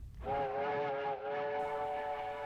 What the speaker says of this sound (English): I hear the train whistle.